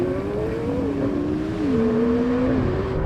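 A Porsche 911 Turbo S and a McLaren 720S launching in a drag race: a continuous roaring engine drone with shifting tones as the cars pull away, loud and sustained, heard from inside or near the car without speech.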